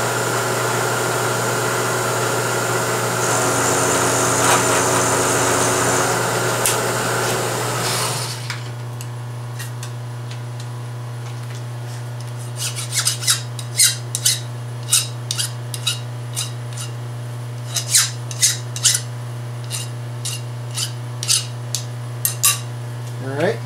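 A milling machine cutting a metal mounting bracket: a loud steady motor whine with cutting noise that stops, then a low hum with scattered sharp clicks and taps.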